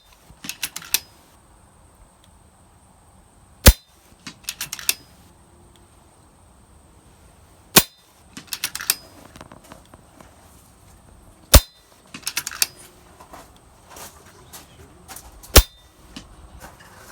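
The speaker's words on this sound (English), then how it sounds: "Okay, 5 quick shots." Five sharp, spaced cracks from a PCP air rifle firing FX Hybrid slugs, each a loud isolated report with a brief metallic ring, separated by quiet pauses and a little faint background shuffling.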